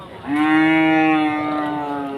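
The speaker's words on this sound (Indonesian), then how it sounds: "Bakalan sapi limosin yang cukup luar biasa untuk di hari ini" A Limousin cow moos at a livestock market. The single long, loud low call sits close by and fades slightly toward the end.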